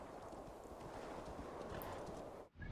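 Horse hooves clip-clop steadily in Assassin's Creed Valhalla, a dense continuous trot close by that runs unbroken for nearly three seconds before cutting out abruptly near the end.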